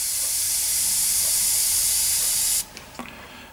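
An Iwata HP-M1 airbrush spraying at about 15 psi gives a loud, steady airy hiss that cuts off abruptly near the end, followed by a few faint clicks.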